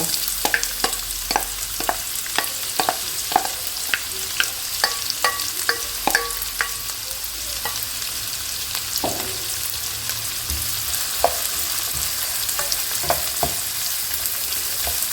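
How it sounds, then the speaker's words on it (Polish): Chopped onion sizzles and crackles in about three tablespoons of oil in a frying pan, with a spoon stirring and scraping the pan now and then; steady frying throughout. "Wlewam na patelnię olej, około 3 łyżek. Podsmażam pokrojoną cebulkę."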